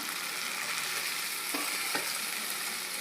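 Onion and tomato frying in a pan for egg baigan bharta: a soft, even sizzle close by, with two brief stirring knocks midway.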